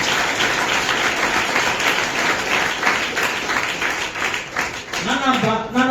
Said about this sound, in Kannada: ಸ್ವಲ್ಪ ಚಪ್ಪಾಳೆ ಹೊಡೆ ಇನ್ನೊಂದು ಖುಷಿ.